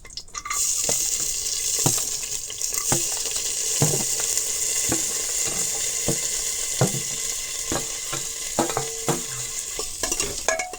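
Whole spices, bay leaves, curry leaves, green chillies, cashews and coconut sizzle steadily in hot ghee for pulao, a constant close frying hiss broken by scattered clinks and stirring scrapes throughout.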